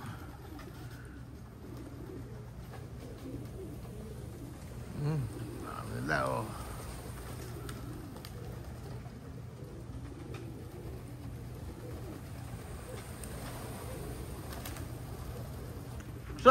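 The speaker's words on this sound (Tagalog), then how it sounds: "pero bababa na mga ibon." Racing pigeons cooing as they come down to land at a Capistrano Classic race, soft and fairly distant under steady background hum, with people talking throughout.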